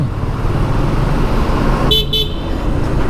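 A car horn gives two short, loud toots over the steady rush of traffic on the Mawa expressway at night, close by.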